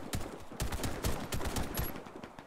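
Rapid Beretta pistol shots fired from the hip in the video game Warface crack in a quick, uneven string of sharp, loud bangs, with no talking over them.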